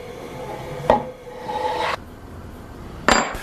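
Hand router cutting a mortise in wood, giving two short bursts of abrasive rasping, the first leading into a steady milling stretch of about a second, then a pause before a final short cut; close and fairly loud.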